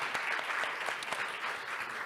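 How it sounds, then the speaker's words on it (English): Conference audience applauds the presenters with steady, moderately distant clapping, a dense patter of hands that holds evenly throughout with no talk over it. "Please give them a big round of applause"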